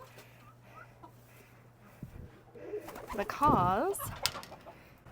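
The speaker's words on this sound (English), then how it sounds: "It's gonna get loud for a second as I come in the pigeon loft" Pigeons inside a pigeon loft, cooing and fluttering grow louder as someone enters, with a burst of wing flaps and coos up close, and a quiet voice speaks briefly.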